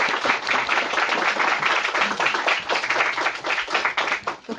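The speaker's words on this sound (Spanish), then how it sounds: "Démosle la bienvenida con un fuerte aplauso" Sustained applause from a lecture audience, steady and dense clapping throughout, with no speech over it.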